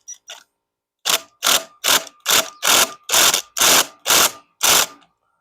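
Ratcheting tool tightening a nut on the ignition of a 2002 Honda XR100R, heard as nine loud, evenly spaced ratchet bursts, close and alone, after two short faint clicks.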